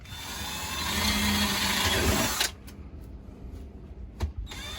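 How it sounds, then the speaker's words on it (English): A power drill bores holes through a new wooden mast piece, using the old piece as a guide. There is a steady loud whirring grind for about two and a half seconds, then it stops, followed by a few quieter knocks. "what we're doing is drilling holes in the new piece and using the old piece as a guide"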